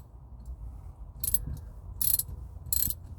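A socket wrench ratchets close up while tightening a steering wheel knob, giving three short bursts of rapid clicking separated by brief pauses, with no voices.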